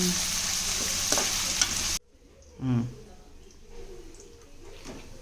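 Eggs fry with ginger paste for egg rice, a loud, hissing sizzle for two seconds, then the sound drops to a quieter crackle with utensil scraping while a voice speaks over it.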